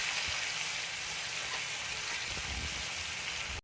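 Tomato hits hot oil in a pan for egg curry, producing a close, steady crackling sizzle that holds evenly before cutting off abruptly at the end.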